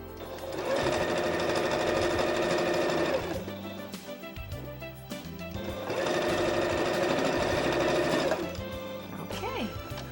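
A sewing machine stitches a seam in leggings in two long runs, each about three seconds, separated by a pause with handling noise and a voice between runs.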